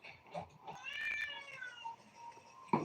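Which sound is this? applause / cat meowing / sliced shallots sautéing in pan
cat meowing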